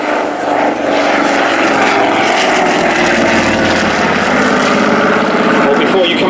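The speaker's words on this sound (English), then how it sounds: "BAE Systems Heritage Flight Anson." A vintage Avro Anson propeller plane of the BAE Systems Heritage Flight drones loudly and steadily at an air show, its engine roar filling the whole stretch.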